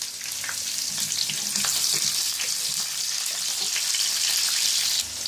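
Oil sizzles and crackles steadily as garlic and green and red bullet chilies fry in a hot pan for a tadka, a continuous hissing close by with no talking.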